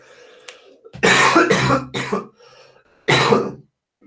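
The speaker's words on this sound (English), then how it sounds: "I have a bit of a chesty cough, as they say." Several harsh, chesty coughs burst out close up, a quick cluster of three followed by one more after a short pause.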